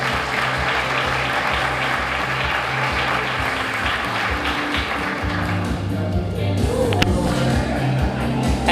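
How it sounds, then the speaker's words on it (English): Dense, loud audience applause fills the room at a teacher of the year celebration event, steady and continuous throughout with a faint murmur of voices mixed in. "Let's give him a great big round of applause."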